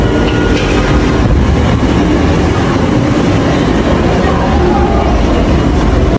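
An LRT-2 light rail train runs in a steady, loud, close rumble with a constant roar of wheels and motors that fills the whole span without a break.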